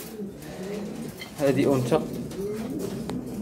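Khenissi pigeons cooing in a loft in Tangier, soft rolling coos rising and falling over steady ambient murmur, with someone speaking over them.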